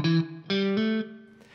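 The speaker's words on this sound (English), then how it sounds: "I do have a little bit of distortion. The tone is just starting to break up" Short electric guitar lick with slight distortion, tone just breaking up: a few bright, punchy notes with sliding pitch changes, played alone and ringing out at the end.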